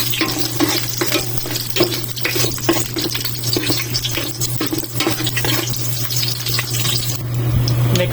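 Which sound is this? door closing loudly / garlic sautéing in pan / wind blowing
garlic sautéing in pan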